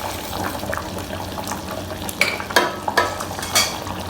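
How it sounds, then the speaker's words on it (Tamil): A pot of ladies finger tamarind gravy (vendaikkai puli kuzhambu) bubbles on the stove. A steady soft simmer carries a few sharper pops and bursts of bubbling, close and alone without talk. "இப்போ 2 கொதி வந்துருச்சு."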